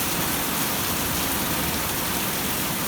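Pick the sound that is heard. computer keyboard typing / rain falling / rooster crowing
rain falling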